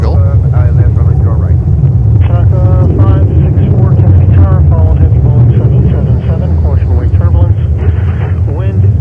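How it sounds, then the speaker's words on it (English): Gusty wind buffets the microphone at an outdoor plane-spotting spot at JFK airport, a steady loud low roar that runs the whole time while people talk over it. "the wind is picking up. That's exactly why I'm freezing."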